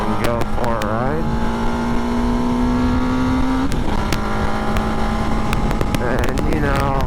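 A motorcycle engine on a ride, loud and continuous. The pitch climbs and shifts through gears, with steady rumble and wind underneath.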